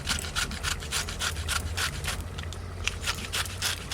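Raw mango rubbed against a grater for a mango kasundi chicken curry, a steady rhythmic rasping scrape repeating in quick strokes, close and continuous with no talking.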